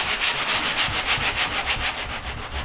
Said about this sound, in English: now I got a little sanding block